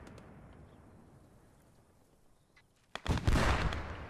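Artillery fire in the Post Scriptum war game: a sudden loud blast breaks a low rumbling background, then rolls on as a heavy, sustained roar of explosion.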